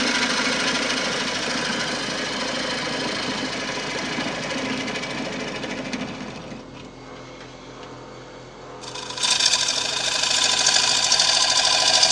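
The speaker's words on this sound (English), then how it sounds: "let's give this gouge a sharpen." A wood turning gouge is sharpened against a grinder during woodturning work. A loud, steady grinding whir dips quieter for a few seconds midway, then returns with harsher, brighter scraping, close up and without talking.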